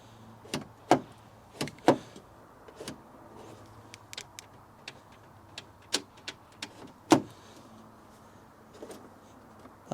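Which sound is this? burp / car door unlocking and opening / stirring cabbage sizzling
car door unlocking and opening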